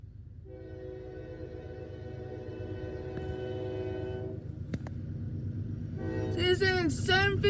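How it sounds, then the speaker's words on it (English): A loaded CSX coal train rolling past, its deep rumble steady throughout, with long blasts of the horn in the first half and more horn near the end as the noise grows louder. "Lord Coal Train"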